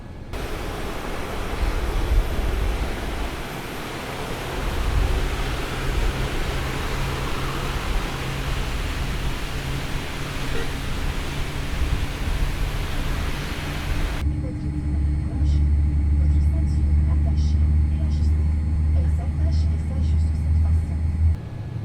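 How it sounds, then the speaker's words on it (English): Boeing 787-9 engines spooling up together in the Microsoft Flight Simulator video game: a steady, loud rumbling roar that shifts into a deeper, steadier low drone partway through, with a voice talking faintly over it. "we're going to start both engines at the same time since we can do that on the 787s"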